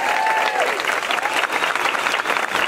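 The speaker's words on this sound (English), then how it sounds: "Give them a round of applause." Loud, dense applause from a large crowd at SeaWorld Orlando's 50th anniversary celebration, steady and sustained throughout with a faint whistle near the start.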